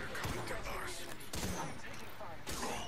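Gunfire in Apex Legends, a few sharp shots popping at intervals, moderately close, under a player talking over voice chat.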